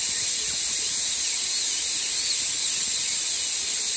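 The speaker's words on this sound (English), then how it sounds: "I'm using an air-driven handpiece here" An air-driven dental handpiece drilling a tooth during crown preparation, a continuous high-pitched whine with a hissy edge, loud and close, holding steady throughout without pause or speech.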